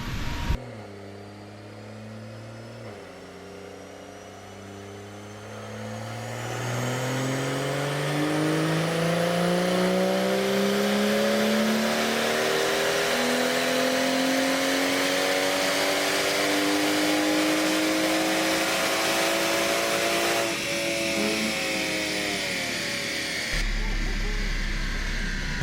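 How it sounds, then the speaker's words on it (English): A BMW 340i's B58 engine revving steadily upward under full load on a dyno, its pitch climbing over many seconds, then dropping sharply as the throttle is released. "we're gonna let it car cool down a little bit and then go for another run"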